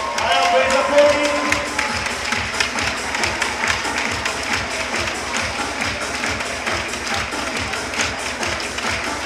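A volleyball crowd in a gym applauds the ball kids after a match. Light, fast clapping fills the whole stretch, and a murmur of the crowd runs underneath.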